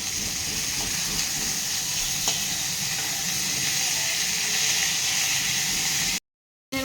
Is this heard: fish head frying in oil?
yes